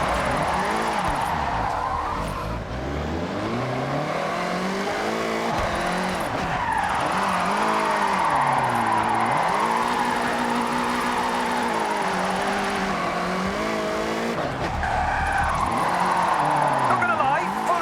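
A car racing along Japanese roads in the Forza Horizon 6 video game: a loud engine climbs and drops through repeated gear changes, with bursts of tire squeal, continuous and up close.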